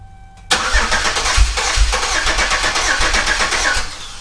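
A Pontiac Grand Am engine cranks and catches after a quiet pause, then settles into a steady, close idle with a low rumble.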